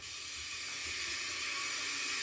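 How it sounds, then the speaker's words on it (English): A toy wooden-railway steam engine releases a steady, feeble hiss of steam, soft and continuous for a couple of seconds with no voices over it. "He just let off steam feebly."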